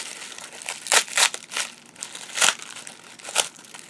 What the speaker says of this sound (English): get this tape off there